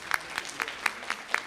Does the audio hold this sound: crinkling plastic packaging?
no